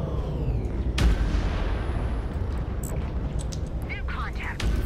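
Heavy weapons fire from a sniper ship in the space combat game Fractured Space pounds an enemy ship: a continuous low rumbling barrage with a sharp booming impact near the start and scattered higher zaps later, under faint talk.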